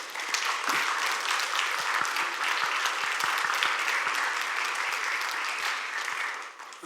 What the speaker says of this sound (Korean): 우리 박수 한번 해주실래요?